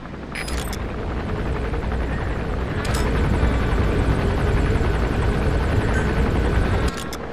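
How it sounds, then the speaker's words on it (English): A helicopter landing in Metal Gear Solid V: The Phantom Pain, a loud sustained rotor roar with chopping pulses that holds steady, then cuts off abruptly near the end. "There's a chopper landing."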